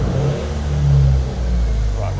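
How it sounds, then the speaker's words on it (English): Daihatsu Copen engine running and revving, a close, loud mid-pitched drone that swells into a rev, dips and picks up again, with a voice talking under the engine noise. "we're gonna start her up, apply the brake, see if the mics can handle the noise of the car"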